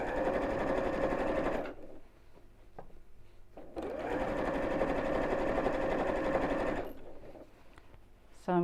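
A sewing machine stitches a bowling bag in two long, steady runs of humming needle action, pausing briefly between them, close and fairly quiet with no talk over it.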